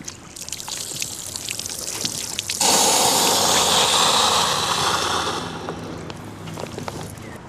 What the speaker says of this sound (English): Swish the water around and then drain it completely through the deflator hose